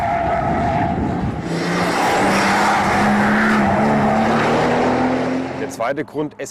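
A Mercedes SL65 AMG Black Series drives hard at Laguna Seca: a loud engine note climbs steadily in pitch with tire squeal, then falls away at the end.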